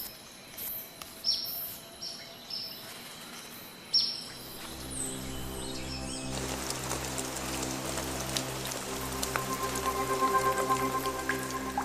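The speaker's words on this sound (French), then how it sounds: "les oiseaux-mouches adorent la pluie et ne perdent jamais une occasion de prendre une bonne douche" A rain shower falls in a hummingbird habitat, starting as a steady hiss partway through and building into a dense, continuous patter, after scattered bird chirps and tweets at the start.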